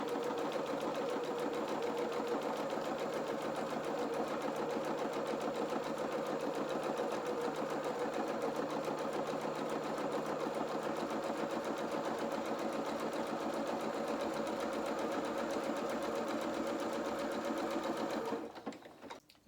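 A sewing machine runs steadily and close for about eighteen seconds, a few stitches in place and then a zigzag through felt fabric, with a fast, even mechanical chatter that stops abruptly at the end.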